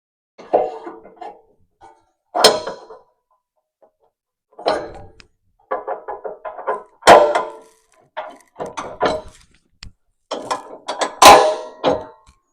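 Metal locking pins slide and clank through the mounting bracket of an X590 snowblower. Sharp clicks and rattles come in a dozen short, close bursts separated by silence, with no talking.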